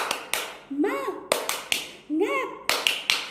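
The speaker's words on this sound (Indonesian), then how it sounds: "Tepuk semangat." Close, loud rhythmic claps come in quick bursts during a classroom spirit clap led by a teacher, with chanted voices rising between the clap groups.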